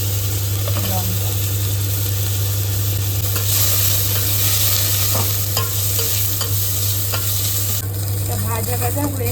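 Ginger, garlic, onion and chilli sizzle loudly in hot oil in a pan while being stirred, with steady frying hiss, scraping strokes and a constant low hum throughout.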